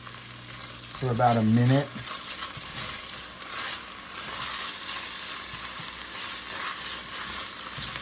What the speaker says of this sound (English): now I'm gonna add the ginger and the garlic, and I'm gonna let that go